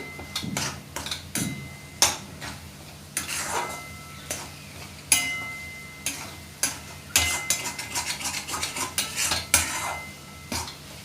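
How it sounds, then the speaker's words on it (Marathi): Egg bhurji with spices sautéed in a pan, with frequent sharp clinks and scrapes of a spatula against metal over a soft background sizzle, in irregular bursts. "सगळे मसाले आणि अंड्यांना एकत्र व्यवस्थित परतून घ्यायचं आहे"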